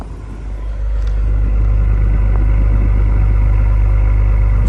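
Exhaust of an Acura TLX Type S at idle, a deep, steady low rumble close by that swells slightly after the first second and then holds even and unbroken, with no voices.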